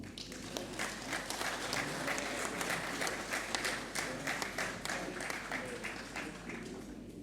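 An audience at a village ceremony applauding as a chief is called up, dense continuous clapping from many hands heard from a distance, with faint voices beneath.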